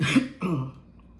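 A close, brief throat clearing in two rough bursts, fading into quiet room tone.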